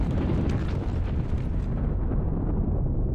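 Airstrike explosions in the strategy game Sealion '40 come as a continuous, heavy rumbling blast with a loud low-end roar that slowly thins and fades.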